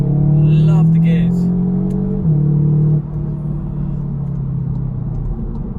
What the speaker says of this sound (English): You just heard a turbo whistle.